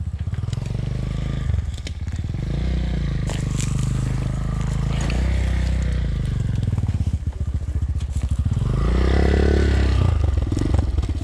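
An enduro motorcycle rides through sand, its engine loud and close, rising and falling in repeated revs with clattering and scraping mixed in.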